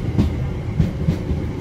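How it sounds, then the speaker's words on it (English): A train passes close by outdoors, a steady low rumble with rhythmic clacking of wheels over rail joints, loud and continuous throughout. "Oh, the train! And we have to wait till the train's gone."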